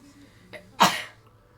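A single sharp sneeze, close and loud, preceded by a soft intake of breath and followed by quiet.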